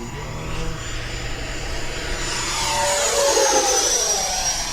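An FMS Integral 80mm electric ducted fan RC jet flies overhead with a steady high whine that swells and shifts pitch as it passes, loud and continuous.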